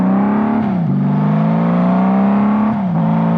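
Honda Valkyrie motorcycle engine running steadily and loud up close, with a deep rumble that dips briefly twice as the big, heavy bike eases back into a driveway.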